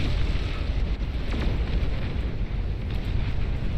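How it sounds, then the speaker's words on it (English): A nuclear explosion in the strategy game Beyond All Reason: a loud, sustained low rumbling roar with a broad noisy wash that stays steady throughout, with no voices over it. "Ooh, big old nuclear explosion"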